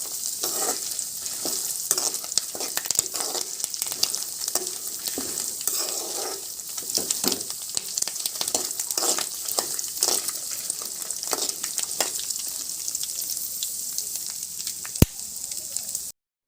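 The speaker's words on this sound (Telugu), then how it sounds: "తర్వాత ఇందులో కొంచెం ధనియాలు వేసుకొని వేయించుకోవాలి." Curry leaves and coriander seeds sizzle steadily in a hot pan for a village-style curry leaf and peanut spice powder, with frequent scraping stirs and clinks of the spoon throughout, close and fairly loud, with no talking.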